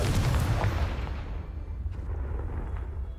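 A Confringo fire spell explodes in the Hogwarts Legacy video game, a loud, close boom that rolls off into a fading rumble with no speech over it.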